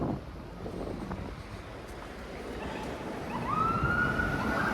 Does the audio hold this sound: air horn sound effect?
no